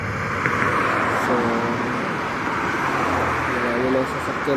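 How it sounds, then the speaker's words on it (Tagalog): Steady road traffic with many vehicles going by, a continuous broadband roar of engines and tyres that stays close and loud throughout, with faint voices mixed underneath. "marami lang sasakyan nito guys"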